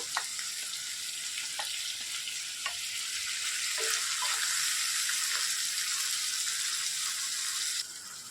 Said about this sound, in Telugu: ఇందులోనికి టమాటా ముక్కలు కూడా వేసేసుకోవాలి